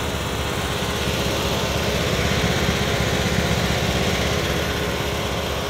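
An Agway GT 1846 garden tractor engine runs steadily, a continuous mid-pitched mechanical drone with even, rapid firing pulses heard close up and without talk.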